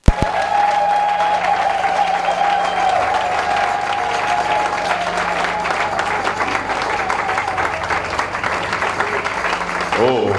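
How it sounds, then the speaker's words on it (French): A church congregation at a Sunday worship service applauds steadily and loudly for about ten seconds, a dense continuous wash of clapping that fills the room, with a sustained tone underneath early on. "Est-ce qu'on peut acclamer le Seigneur?"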